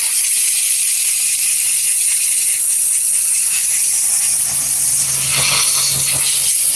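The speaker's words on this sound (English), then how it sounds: "So usually step number 1, I'll come back again with the steamer." A handheld steamer cleans the dirty interior of a Toyota Highlander, giving a steady broadband hiss of jetting steam that runs throughout, close and fairly loud, with a slight rise in intensity near the end.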